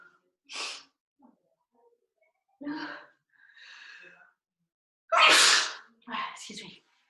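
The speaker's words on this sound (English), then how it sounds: "Oh, I need to sneeze." Someone sneezes up close in a quiet room with a sharp, loud burst, then gasps and breathes in wheezy snorts before a second forceful sneeze and a shorter follow-up burst.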